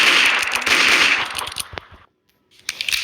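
Sharp popping firework bursts from a fireworks video game crackle loudly in quick succession, then cut to a brief silence before a few more scattered bangs.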